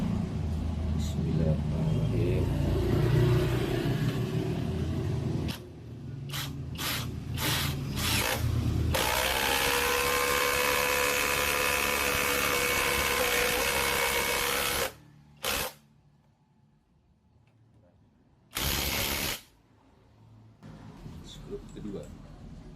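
A FLEX FX1351 power tool driving 4 mm stainless screws with 12 mm heads, a sustained whirring motor run of several seconds broken by short starts and stops, close, with a voice heard at times.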